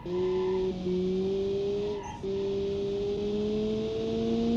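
A rear-engine car in the driving game BeamNG holds a steady whine whose pitch climbs gradually. The whine dips briefly midway, as at a gear change, then continues alone.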